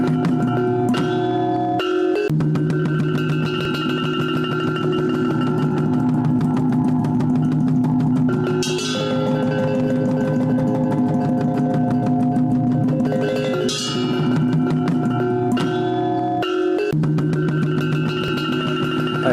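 A truck engine runs loud and steady while boarding a RoRo ship, holding a low droning rumble with brief dips and surges as it moves along.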